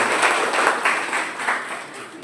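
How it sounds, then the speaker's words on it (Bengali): Applause from an audience at an agricultural program talk, a steady dense wash of clapping with slight swells, moderately loud and continuing without speech throughout. "জ্যাঠামশাইয়ের জন্য একটা জোরদার হাততালি।"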